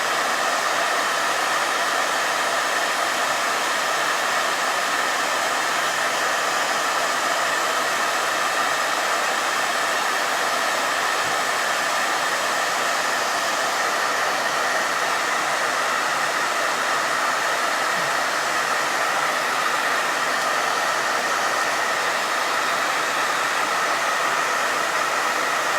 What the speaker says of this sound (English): I'm going to blow dry that bow again.